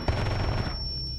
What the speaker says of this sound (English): The flashbang goes out.